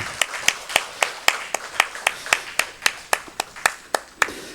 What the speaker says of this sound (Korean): 우리 한상태 집사님, 우리 박수를 한번 축복하고 환영하겠습니다